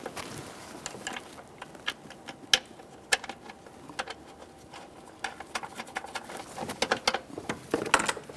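A ratchet snugs 10mm mounting bolts on a Nissan Maxima 3.5L V6 intake plenum, giving quiet, irregular clicks and ticks with small metallic taps close by.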